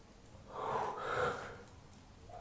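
A single soft, slow breath exhaled through the nose and mouth during a seated chair yoga movement, close but faint, rising and fading over about two seconds.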